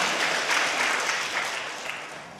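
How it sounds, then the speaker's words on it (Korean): A brief round of audience applause in a church gathering, steady clapping from a small group that tapers off toward the end. "박수 쳐주세요."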